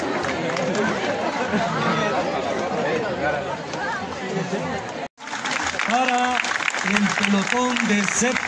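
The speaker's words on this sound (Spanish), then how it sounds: "Vamos a ver esos aplausos para el pelotón dirigido por Fernando," Crowd applause and chatter at a school Fiestas Patrias artistic performance in Colomoncagua, cheering a seventh-grade platoon: dense, continuous clapping mixed with loud babble, a brief cut midway, then voices and crowd noise carrying on.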